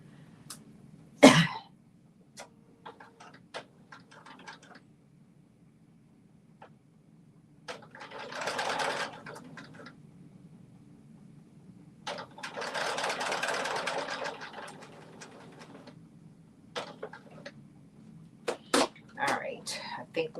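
A sewing machine stitches fabric for a McCall's 8555 garment in two sustained runs separated by quiet pauses, with scattered handling clicks and a cough near the start.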